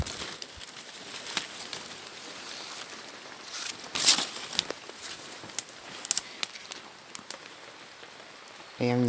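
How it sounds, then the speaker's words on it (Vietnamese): Steady heavy rain pours across the whole recording, a dense continuous hiss with occasional louder drips and patters close by. "trời rất là mưa nhá anh em nhá,"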